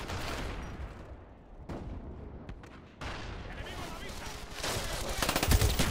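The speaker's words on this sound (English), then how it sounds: "he's just shooting at my teammates" Dense, rapid gunfire and explosions from Call of Duty: Black Ops multiplayer, with the Mac 11 in use, sound as a continuous loud barrage with brief lulls and bursts building toward the end.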